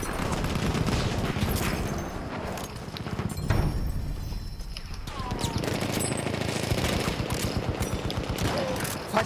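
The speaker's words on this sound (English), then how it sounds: "Feindliches MG da drüben!" Machine gun fire on the Brusilov Keep map in Battlefield 1, a dense, loud, continuous rattle of rapid shots with battlefield noise and shouting voices mixed in.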